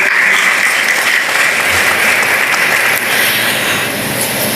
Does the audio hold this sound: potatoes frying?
no